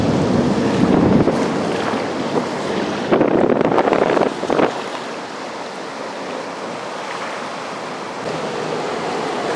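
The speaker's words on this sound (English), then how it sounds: "It's noisy here. I'm under a bridge. And it's raining too." Rain falling under a bridge, a steady broadband hiss and rush with gusty bursts of wind noise on the microphone, loud and close throughout, no speech.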